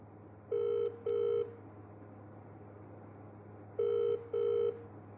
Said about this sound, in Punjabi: ਫੋਨ ਚੱਕ ਨਹੀਂ ਰਹੇ